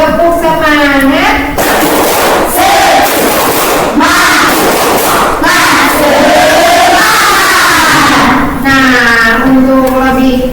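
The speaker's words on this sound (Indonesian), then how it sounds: "coba kalian tepuk semangat dulu" A classroom of students shouts a loud rhythmic spirit chant together, voices rising and falling in unison, punctuated by heavy thumping claps.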